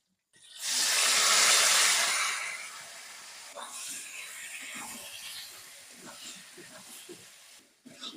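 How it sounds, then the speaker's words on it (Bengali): Boiled taro leaves dropped into a hot cooking pot give a loud burst of sizzling hiss that settles into a steady, softer sizzle with small crackles. "এবারে বয়েল করে রাখা কচু শাকগুলো আমি এর মধ্যে দিয়ে দেবো"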